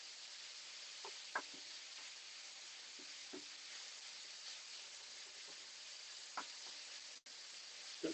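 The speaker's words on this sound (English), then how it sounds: "Doesn't take long for pork to cook." Pork sizzles steadily in a pan for a Thai-style rice bowl, a constant close frying hiss with a few soft stirring knocks and scrapes, no talking.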